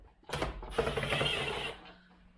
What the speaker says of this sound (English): Working on that last screw.